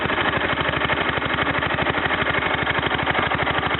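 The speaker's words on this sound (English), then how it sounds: "Runs a heck of a lot better with a new head gasket." A Kohler K241 small engine runs steadily after a tune-up and a new head gasket, its even, rapid firing pulses loud, close and continuous with no talk over it.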